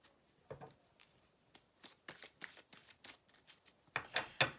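Tarot cards shuffled by hand and dropping onto a surface in a reading: a run of quick papery riffles and slaps, sparse at first, then denser and louder taps near the end, close and with no talking.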